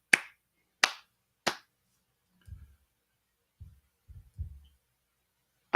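A slow clap: three sharp, isolated handclaps spaced evenly apart, then low thumping sounds and one more clap at the very end, close and dry against silence.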